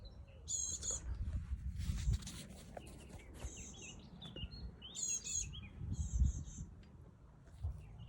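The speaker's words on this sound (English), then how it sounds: "there was this bird. Like, I was lying down there, and it just flew by me, quite close." Bird chirping in a garden, several short high bursts of tweets spaced out over steady background noise and low rumble, moderately distant and faint.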